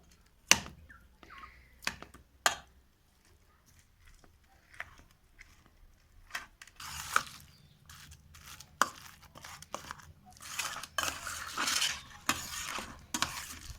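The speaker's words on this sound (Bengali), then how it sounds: "এবার এই এঁচড়গুলোকে আলুর সাথে ম্যাশ করে নেব।" Boiled green jackfruit is mashed with potato in a bowl: scattered soft squelching presses and scrapes, with sharp knocks at first and a denser run of mashing near the end, all close and fairly quiet.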